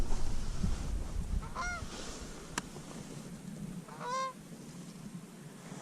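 Two bursts of goose honking sound during an early-season Michigan Canada goose hunt, a couple of nasal calls each, moderately distant over a low outdoor rumble and wind.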